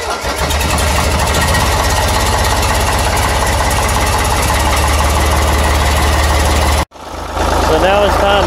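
Ford 3910 tractor diesel engine cold-starting and running loudly and steadily up close for several seconds, with a brief cutout near the end before it roars on again.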